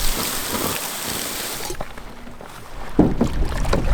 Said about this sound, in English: Today's a lot better than yesterday for paddling.